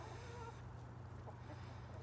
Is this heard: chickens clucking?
yes